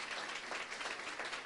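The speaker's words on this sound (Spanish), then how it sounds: "¿Quién le da un aplauso al Señor?" A church congregation applauds the Lord during a sermon, a steady wash of many hands clapping at moderate, somewhat distant level for a brief moment.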